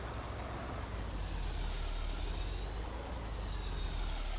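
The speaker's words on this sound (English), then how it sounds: "Nice engine sound." Steady, loud truck engine drone from Farming Simulator 19, a low continuous rumble with hiss throughout and a faint beeping near the end, no talking.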